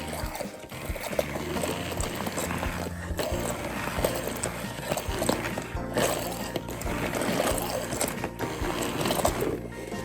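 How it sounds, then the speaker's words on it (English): A blender purees cooked beans into a creamy dip for burritos, a steady whirring and churning that runs continuously at moderate loudness with a wet, gurgling edge throughout. "So I'm going to just puree my beans a little bit."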